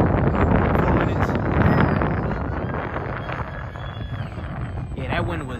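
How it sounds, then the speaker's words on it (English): Gusty wind buffeting an outdoor microphone near a modded Ft Spear RC plane, a loud broadband roar that swells strongest early and then eases, with faint motor whine in the background. "that wind was really gusty right there"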